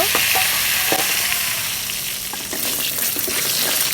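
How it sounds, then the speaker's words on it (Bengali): Lentil dumplings (bori) fry in oil together with egg, producing a dense, steady sizzle with occasional stirring taps, close up and without speech. "আমি এখন বড়িটাও ভেজে নিব"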